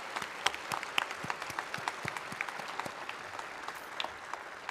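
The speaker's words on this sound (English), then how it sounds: "So if we can just give a round of applause to Jamie and everybody who worked hard to make today possible." Crowd at Hawaii's governor inauguration claps in a fairly quiet, distant round of applause, individual claps audible as scattered sharp hits over a steady wash.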